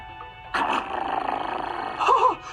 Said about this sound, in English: Oh, nice doggy.